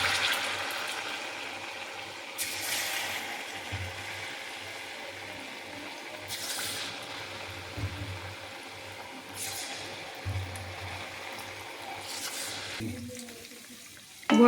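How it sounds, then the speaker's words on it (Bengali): Tal bora, palm fruit fritters, frying in hot oil over a gas flame for a Janmashtami recipe. A steady close sizzle and hiss runs throughout, with several louder bursts of crackling. "তেলটা খুব ভালোভাবে গরম হয়ে গেছে। আমি এবার এখানে বড়াগুলো আস্তে আস্তে ছাড়বো।"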